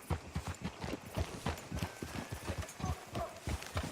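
Horse hooves clip-clop at a steady walking rhythm in Red Dead Redemption 2, close and fairly quiet, with faint background ambience and no talk.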